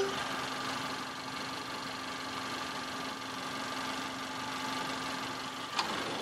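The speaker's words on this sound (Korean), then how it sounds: "바로 엔진 소리 한번 들려드릴게요." Honda Accord 2.4 engine idling with a low, steady hum and faint mechanical ticking, continuous throughout, ending with a small click.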